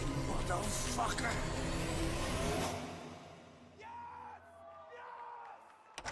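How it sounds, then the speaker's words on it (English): Several people yell and shout in a scene from a serial-killer crime movie, loud and crowded over a constant rumble of traffic and vehicles for the first half, then thinner, fainter calls and voices trailing off. "You hear people yelling, yes!"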